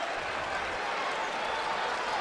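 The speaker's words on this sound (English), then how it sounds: "Crowd really getting into it here too" A crowd cheering at a college basketball game between the University of Miami and Georgia Tech, a dense, continuous roar at even loudness with no breaks.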